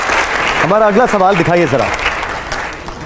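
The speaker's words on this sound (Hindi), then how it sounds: "एक बार जोरदार तालियां हो जाए मेरे इसके लिए।" An audience claps in sustained applause throughout a Hindi-language talk and question session while someone speaks loudly over the clapping.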